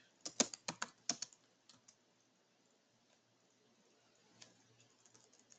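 Fingers typing code on a computer keyboard, a quick burst of crisp close key clicks at the start, then a few scattered taps and near silence before light typing resumes near the end.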